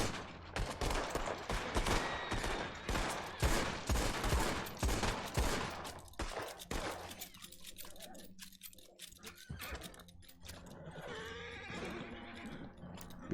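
Guns fired in a volley as a memorial salute for a fallen friend: a dense burst of loud, overlapping gunshots for about six seconds, followed by quieter sounds and a horse whinnying.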